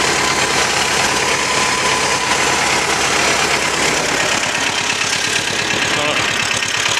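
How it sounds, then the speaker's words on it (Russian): A T-25 tractor engine idles steadily and loudly close by, a continuous low knocking drone with an even rhythmic pulse, with talking over it. "Все, я трактор завел"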